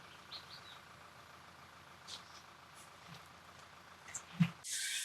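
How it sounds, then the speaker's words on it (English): A tractor digging out a harbour on a garden estate, a low steady engine drone far in the background, faint, with occasional bird chirps and a brief rustle near the end. "So you can hear a tractor in the background."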